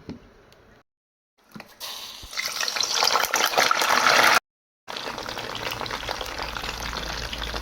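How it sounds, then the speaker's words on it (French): Pieces of yam sizzle and crackle loudly in hot oil, broken by brief silent cuts, with a steady frying hiss dominating. "il faut que l'huile soit bien chaude avant de rajouter l'igname"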